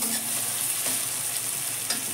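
Onion and tomato fry in hot oil in a pan for a fish curry with mustard and poppy seed, a steady close sizzle with faint stirring.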